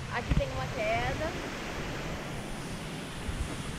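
Water pouring down a falls inside a canyon on a trail, a steady broad rushing roar throughout, with a brief voice and a few bird-like chirps near the start.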